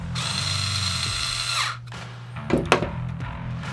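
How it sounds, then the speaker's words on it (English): A power driver runs a Phillips machine screw into a Blackhawk Stache IWB holster, a close loud whirring spin that winds down, then short bursts of driving and clicks. "take one of your Phillips machine head screws, get it placed into place, and then you're going to drive it in."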